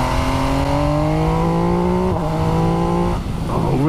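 A 2021 MV Agusta Dragster motorcycle engine revs hard and loud up close, its pitch climbing steadily through the gears in a smooth rising howl, then dipping briefly and surging again near the end.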